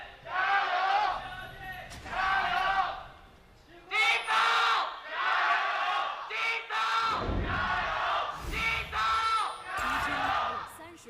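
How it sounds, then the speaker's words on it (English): A packed esports arena crowd roars and cheers ahead of a League of Legends LPL Spring playoff game between Bilibili Gaming and JD Gaming, loud and continuous in surging waves, with people talking over it. "The crowd is absolutely packed and ready for this one here to cheer on their teams"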